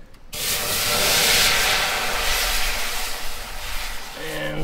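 Water hisses loudly and steadily in a hot pot on the stove as it is filled for cooking pasta, a broad continuous rush that starts abruptly and holds for several seconds.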